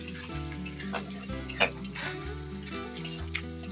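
Onions frying in a pan with spices for a country-style chicken curry, with a steady close sizzle and occasional stirring scrapes throughout, no voices.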